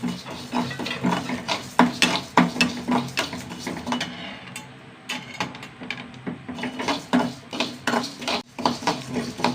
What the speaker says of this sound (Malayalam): കുറച്ച് കറിവേപ്പില അത് ഒരുമിച്ചിട്ട് വറുക്കാം